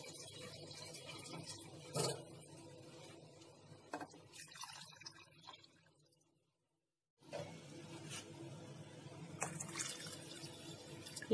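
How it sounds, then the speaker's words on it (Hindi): Water pours steadily into a pot of spinach soup in two stretches separated by a brief silence, with small splashes and drips; quiet and close. "तो अब हम पानी डाल रहे हैं इसमें।"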